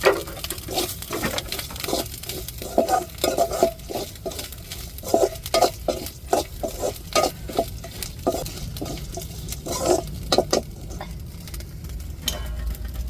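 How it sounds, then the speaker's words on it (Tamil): Dried red chillies, coriander seeds and garlic sautéing in a little oil in a pan, with steady stirring and scraping strokes over a soft sizzle and repeated clinks of the spoon against the pan. "இப்போ லைட்டாக எண்ணெய் ஊற்றி வதக்கிக்கிடுவோம்"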